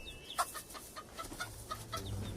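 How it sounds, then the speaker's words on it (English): Chickens cluck and chatter in scattered short bursts over a steady background hiss, fairly faint and at moderate distance, with no voices. "how are we supposed to clean up this mess with these damn chickens running around?"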